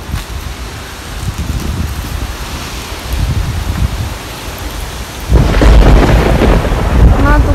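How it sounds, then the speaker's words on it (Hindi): Monsoon thunderstorm with wind in the Himachal mountains: a dense roar of rain and gusting wind with rumbling thunder, swelling much louder near the end, close and heavy. "तो इतना तूफान चल रहा है"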